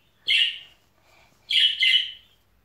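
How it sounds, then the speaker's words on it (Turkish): A pet bird in a home chirps and sings in bright, loud, close bursts: one call, a short pause, then two quick phrases back to back, with a faint room background. "Ötüşüne bakın nasıl ötüyor."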